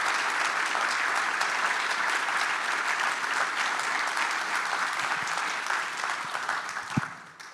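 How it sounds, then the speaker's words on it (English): Steady applause from an audience at an evening talk event, sustained and fairly even throughout from many hands, easing slightly near the end with a single sharp clap close by. "Let's have another round of applause for our speakers tonight."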